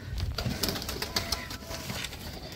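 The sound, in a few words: pigeons cooing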